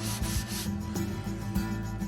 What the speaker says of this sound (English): just rough up the grain a bit with some sandpaper to open it up